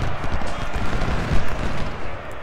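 Massed cannon and musket gunfire from the Ultimate General: Civil War strategy game, a dense, continuous rumble of overlapping shots and booms filling the whole stretch at steady loudness.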